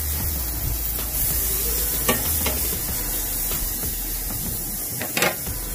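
Burgers for a homemade Big Mac sizzle steadily in a hot pan after being flipped, a close, continuous crackling hiss broken by a few sharper pops and scraping stirs, with no talking.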